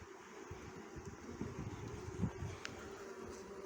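A dense, low droning hum of many honeybees buzzing close by at an open hive, steady with slight swells in intensity throughout.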